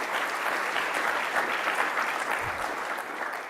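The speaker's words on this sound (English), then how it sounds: "can we have a round of applause for all our wonderful athletes here?" A conference audience applauds athletes at the Step-Up Oceania gathering: a steady, dense round of clapping from a large room, fairly loud and continuous, easing off slightly toward the end with a faint murmur of crowd.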